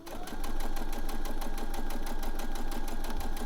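A sewing machine stitches a shallow, nearly straight curve on fluid, flexible knickers fabric, giving a steady, rapid, even mechanical whirr that runs unbroken throughout at moderate volume.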